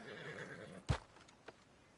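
A horse in the Red Dead Redemption 2 video game lets out a single sharp, loud whinny near the middle, followed by a fainter snort, over quiet background ambience.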